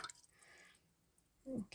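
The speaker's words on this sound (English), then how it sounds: "Let's put a bit of water on my lid." Water dripping onto a paint lid during a stamping and painting craft session, a soft patter followed by a brief, louder wet splash near the end, close and quiet.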